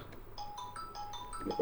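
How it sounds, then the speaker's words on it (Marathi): A faint phone ringtone plays a short repeating electronic melody over quiet background hum. "फोन कोणाचा आला"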